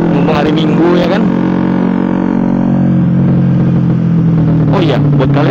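Suzuki GSX R150 motorcycle with an SC Project aftermarket exhaust, a loud close idle and revving burble, steady and throaty, with sharper rev blips at the start and end.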